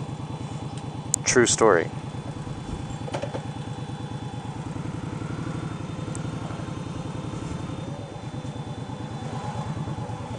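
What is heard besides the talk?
motorcycle riding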